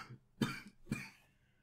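Two sharp coughs about half a second apart, close and fairly loud, from a podcast host with a sore throat, with no talk over them.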